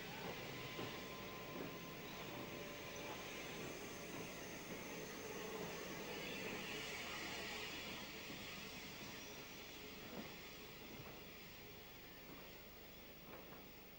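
A Bulleid Pacific steam locomotive with a high-sided tender pulls a train along a railway, heard as a continuous, even rumble of rolling stock with faint rhythmic clicks, fairly quiet and distant.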